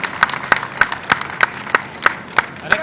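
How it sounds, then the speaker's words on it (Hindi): An audience at a community conference of cobblers in Budhni claps in unison, crisp sharp claps falling in a steady rhythm about three per second, loud and near with a light murmur beneath. "और आप लोग तालियां बजाएं"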